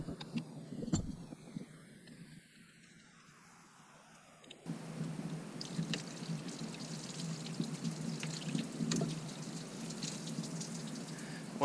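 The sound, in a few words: coolant draining out of a truck hose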